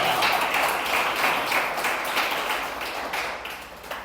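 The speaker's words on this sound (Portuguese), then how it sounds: "Dê um forte aplauso a Jesus por isso" A church congregation gives a strong round of applause for Jesus during a sermon, dense sustained clapping that stays fairly loud and steady for about four seconds before easing slightly.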